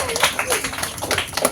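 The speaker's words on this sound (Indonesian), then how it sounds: "Tepuk tangan buat Kak Ilyas." Audience clapping at a children's drone pilot event with the Indonesian drone pilot association, a short burst of scattered hand claps close by, mixed with voices talking.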